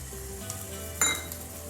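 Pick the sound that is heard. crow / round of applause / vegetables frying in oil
vegetables frying in oil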